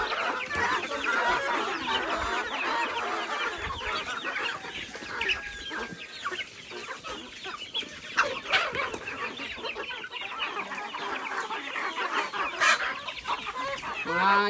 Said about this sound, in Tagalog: Yung mga manok natin dito guys